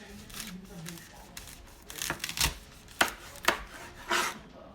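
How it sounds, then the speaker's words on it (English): A kitchen knife cuts the top off a fennel bulb with several crisp chops on a cutting board, moderately close, while people talk quietly nearby. "Now we're going to remove the top half."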